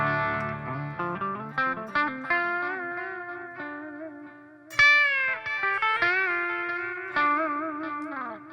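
Clean electric guitar plays bluesy licks with bends and slides, drenched in echo and chorus-like effects, notes ringing out with a spacious tail.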